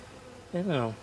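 A honeybee buzzes close by for about half a second during a beehive inspection, its drone rising then sliding lower, after a near-silent stretch.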